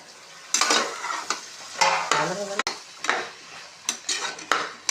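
A spoon scraping and clattering in a pot, stirring tomato rice with carrot, peas, potato and cabbage, in repeated loud strokes and scrapes with no talk.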